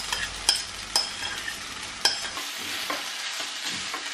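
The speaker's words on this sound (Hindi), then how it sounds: "तो हम अच्छे से मिक्स कर देंगे ताकि जो है वर्मिसली के कोने कोने तक सारा मसाला जो है चला जाए" Vermicelli being stirred with masala in a frying pan, a soft continuous sizzle broken by sharp scraping clicks of the spoon against the pan, close and with no voices.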